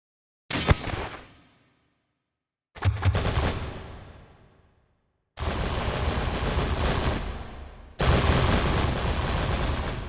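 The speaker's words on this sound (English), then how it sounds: "this dude's firing at us with a machine gun nonstop" Machine gun fire from an enemy in a video game boss battle, four long sustained bursts of rapid shots separated by short pauses, loud and close.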